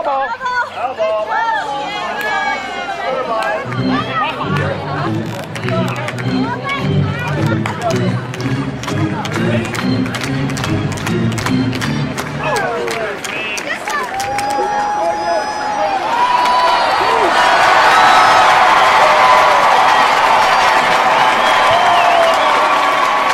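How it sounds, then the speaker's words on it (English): A large crowd at a baseball game roars and chatters continuously, with rhythmic claps and shouts in the middle and a swelling, louder wash of cheering toward the end, all close and busy. "The roar of the crowd. They think something's going to happen here."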